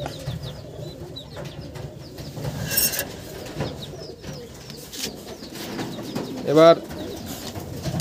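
Pigeons cooing in a loft, several low rolling coos close by amid wing rustles and a short burst of flapping, with someone talking over them.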